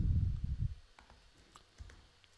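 Keys on a computer keyboard click faintly a handful of times, spaced irregularly after a dull low thump, in a quiet room.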